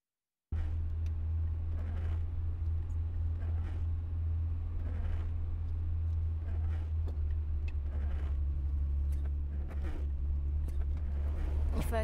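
A car engine drones steadily and close, as from inside the moving vehicle, with a low rumble and periodic soft thumps and rattles, building slightly toward the end.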